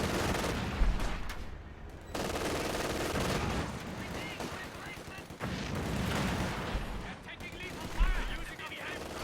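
Machine gun fire in the video game Company of Heroes 2, during a one-on-one match, comes in loud rattling bursts mixed with heavier booms, while a voice talks over the battle.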